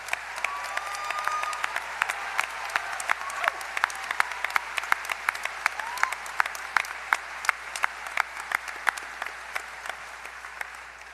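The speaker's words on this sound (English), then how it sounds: "Give you a big round of applause" An audience at a university convocation ceremony applauds first-generation graduates with steady, moderately loud clapping from a large hall crowd, individual claps standing out in a continuous patter, with some faint voices underneath.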